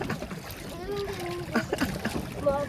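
Water splashes and sloshes against a boat hull while people talk and call out nearby.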